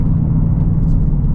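A 2026 Ford Mustang GT convertible's naturally aspirated V8 gives a short, close, loud low rumble. It sounds steady and deep with no other sounds over it.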